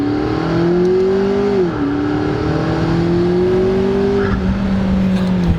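A McLaren MP4-12C engine pulls steadily upward in pitch in first gear, briefly dips, then keeps climbing smoothly, loud and close.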